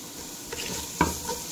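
Spices for Kuwaiti-style machbooz kabsa sautéing in a pan, a soft sizzle with a couple of quick stirring scrapes, faint and close.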